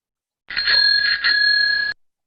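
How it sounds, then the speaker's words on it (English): A bicycle bell rings out loud and close, two quick dings blending into a sustained metallic ring that lasts over a second before cutting off, with no talking. "I have a bell on all of my bikes so I can ring my bell"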